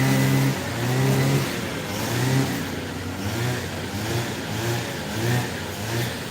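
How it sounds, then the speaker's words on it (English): A grass cutting machine runs close by, a continuous droning engine whose pitch rises and falls in uneven surges, loud and steady throughout. "Somebody is cutting grass close by and is making a lot of noise."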